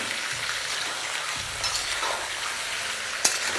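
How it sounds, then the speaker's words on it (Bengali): Chicken pieces frying in hot oil over a high flame for a wedding-style chicken curry, giving a steady close sizzle and crackle with occasional stirring scrapes and one sharp tap near the end. "আর এই চিকেনটা ভাজার সময় আপনাদের ফ্লেমটাকে একদম হাই রাখতে হবে।"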